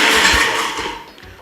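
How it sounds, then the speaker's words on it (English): A kitchen blender whirs loudly as it blends strawberries and yogurt, a steady broadband motor-and-blade roar that fades down toward the end, heard alone without talk. "I'm just gonna close my blender and blend this all up"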